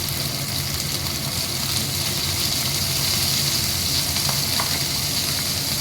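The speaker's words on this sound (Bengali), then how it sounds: "এবারে আমি ভেন্ডিগুলো দিয়ে দিচ্ছি।" Okra fried with salt in a hot pan gives a steady, dense sizzle that fills the whole stretch at an even loudness, close and unbroken, with no talking.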